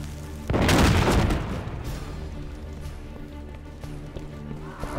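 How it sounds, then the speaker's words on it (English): A cannon fires in the video game At World's End Redux, a single loud, deep boom that rolls out for about a second before settling into a lower, busy game background with light clattering. "A cannon? A cannon."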